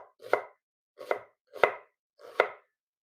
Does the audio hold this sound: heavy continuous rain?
no